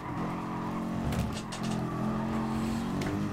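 Race cars in the Gran Turismo Sport game at Bathurst, a steady engine drone with shifting pitch and brief tyre squeal, loud and continuous throughout with no talk over it.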